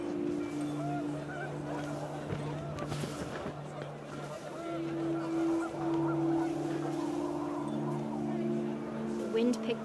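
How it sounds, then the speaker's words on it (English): A flock of panicked geese honks in What Remains of Edith Finch, the overlapping calls sustained and fairly close over a windy outdoor bed of game ambience. "The wind picked up, and panicked geese appeared and quickly went."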